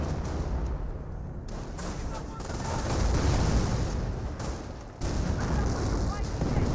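Rifle and machine-gun fire crackle in a Company of Heroes 1 battle between German and American forces, with repeated bursts and distant booms rolling on under a commentator's voice.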